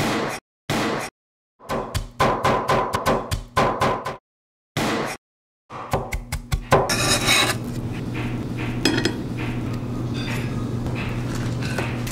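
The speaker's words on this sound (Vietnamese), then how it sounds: "Với hành tím và tỏi này thì mình sẽ băm nhuyễn" A knife minces shallots and garlic on a cutting board with quick, irregular chopping taps that come in bursts, then give way to a steady background hum with faint scraping.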